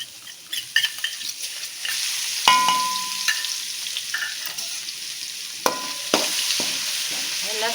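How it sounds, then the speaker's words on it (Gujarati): Crushed garlic with a pinch of turmeric sautéing in hot oil for garlic sev mamra: a bright, crackling sizzle close up, with clinks and scrapes of a spoon stirring in the pan. "લસણને સાતળી લેવાનું છે આપણે 1 મિનિટ માટે"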